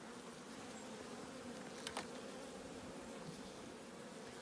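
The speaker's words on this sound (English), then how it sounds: "What lovely bees." A faint, steady droning buzz of many bees, continuous and low, with no voices.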